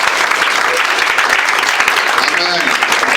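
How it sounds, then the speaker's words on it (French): A church seminar congregation applauds and cheers for Jesus: dense, loud clapping from a crowd, sustained and even across the whole moment, with shouting voices mixed in. "Est-ce qu'on peut acclamer Jésus?"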